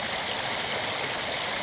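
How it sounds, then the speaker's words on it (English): A backyard koi pond with water flowing steadily, a dense continuous rushing splash like a small waterfall close by, unbroken and with no talking. "It's a koi pond."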